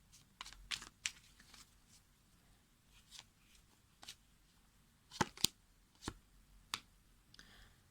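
Tarot cards are drawn and handled in a quiet room, with soft sharp snaps, flicks and rustles scattered at irregular intervals, close and faint, with no talking.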